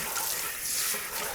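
Water rinses in a kitchen sink, a steady broadband wash of running water throughout, fairly close and even in level, with no talk over it.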